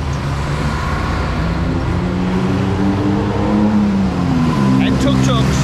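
Old school buses and traffic in Bangkok's Chinatown, a loud close engine drone with rising and falling tones as vehicles pass, a steady street roar underneath and a brief high squeal near the end.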